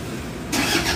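A 2011 Toyota Hilux engine turns over and catches after a key-switched ignition, a sudden loud broadband burst halfway through that settles into a steady running rumble, close by with no talk.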